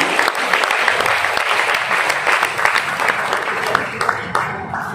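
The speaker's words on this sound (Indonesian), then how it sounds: "berikan aplaus kepada Bu Risma" Applause for Bu Risma at a dialogue gathering with Christian and Catholic pastors and congregants, loud sharp clapping from a nearby crowd that swells and stays dense for several seconds, with faint crowd murmur beneath.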